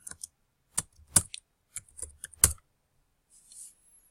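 Keys clack on a computer keyboard in short irregular bursts of distinct taps, close and crisp, followed by a faint hiss.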